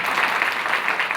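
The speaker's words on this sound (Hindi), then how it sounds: "तालियां होनी चाहिए" A brief burst of dense audience clapping at a Hindi-language event, loud and continuous with a rippling texture, no voices over it.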